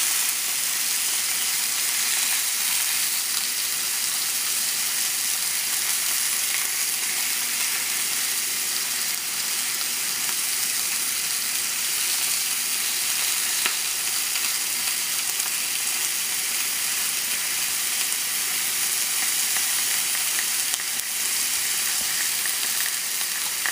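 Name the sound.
tandoori chicken sizzling on a grill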